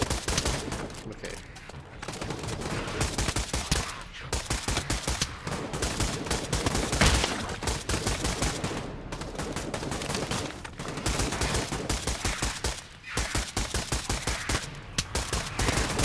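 Rapid gunfire fills a Pavlov zombies virtual-reality game session, with dense, loud bursts of automatic shots rattling almost nonstop and a speaker's voice occasionally mixed in among them.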